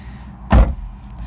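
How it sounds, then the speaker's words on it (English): A single solid door thud on a 2017 FIAT 124 Spider Lusso roadster with the top down, one short loud close standing out from a quiet cabin background. "Close the door here."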